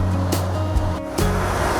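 A boat cruises on the Chao Phraya River; water rushes and slaps steadily against the hull under a low engine hum, with a few sharper splashes breaking through.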